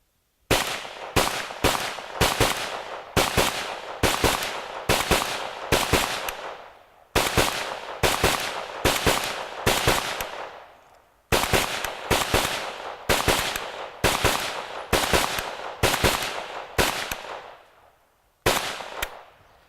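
A Pioneer Arms PPS43C firing a 35-round magazine as quickly as the long trigger allows: loud, close, sharp shots in rapid pairs and short strings, with brief pauses between bursts and a longer gap before the final shots.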